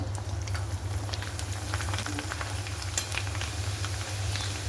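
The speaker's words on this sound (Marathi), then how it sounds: "फ्रेम्स पण तळून घेऊ मस्त" Fryums frying in hot oil for a Holi meal of puran poli, a constant dense sizzling and bubbling close by with scattered crackles, steady throughout.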